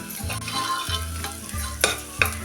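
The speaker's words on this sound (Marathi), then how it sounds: "कांदा आपण थोडा वेळ परतून घेऊया हलकासा ब्राऊन कलर येईपर्यंत परतून घ्यायचा आहे" Chopped onion is sautéed in a pan with a soft sizzle, while spoon stirs and scrapes land at intervals. A faint steady hum runs underneath, and no one speaks.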